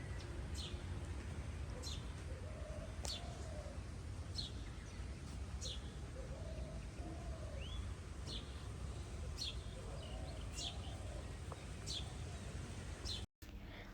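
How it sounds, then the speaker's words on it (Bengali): Scattered bird calls and short chirps from various birds in an open field, faint and spread out over a steady wash of outdoor ambience and wind. "মাঠের ভেতরে বিভিন্ন পাখিদের আওয়াজ"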